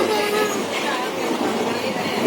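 Steady rumbling rattle of a moving train carriage on a Shirdi-bound train, continuous and fairly loud throughout, with a faint voice murmuring underneath.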